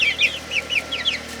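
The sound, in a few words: young chickens clucking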